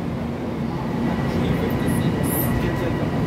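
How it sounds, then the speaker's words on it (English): The JFK Airport AirTrain runs on rails from Jamaica toward the airport with a loud, steady rolling rumble and whine from inside the car. "we're going to be taking a special trip today on the JFK Airport air train to John F. Kennedy International Airport"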